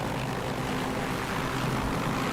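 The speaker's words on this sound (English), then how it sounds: "Hear the engine RPM's going up like crazy." Propeller aircraft engine in the DCS flight simulator game, its RPM climbing in a steady, loud, continuous drone with no talk over it.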